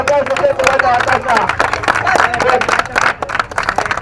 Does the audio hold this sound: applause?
yes